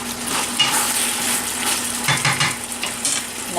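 Chicken and pineapple stir fry sizzles steadily in a pan, a dense, close crackling hiss with small clinks and pops running throughout, no voices.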